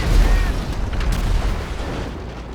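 A loud explosion in GTA Online, a deep booming blast that rolls and rumbles away over a couple of seconds.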